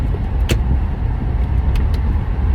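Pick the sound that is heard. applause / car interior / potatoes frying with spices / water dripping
car interior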